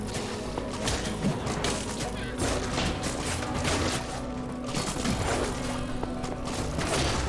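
A chain of TNT explosions in Minecraft Dungeons, dense overlapping thuds and crashes in rapid succession with constant clatter, a voice talking over the busy game action.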